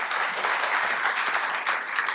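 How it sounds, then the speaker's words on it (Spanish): An audience at a Dominican religious talk breaks into steady, dense applause, many hands clapping together at an even level throughout with no voices over it. "le damos un fuerte aplauso a Enrique"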